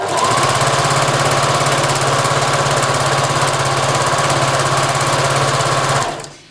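A sewing machine stitches a sun dress seam without pins, running loud and steady with a fast mechanical buzz for about six seconds before stopping abruptly.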